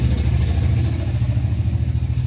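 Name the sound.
very loud truck driving past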